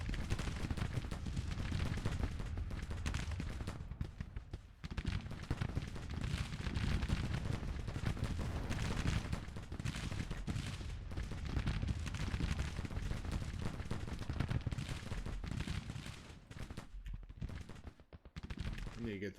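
Continuous battle din from a Civil War era Grand Tactician campaign, with massed rifle volleys, crackling musketry and booming artillery rolling on without pause, loud and dense throughout, with no clear voices over it.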